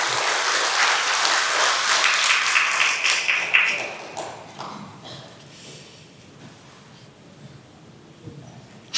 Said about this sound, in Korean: 찬양대원들 기왕 박수 쳤으니까 크게 한번 격려의 박수 하십시오.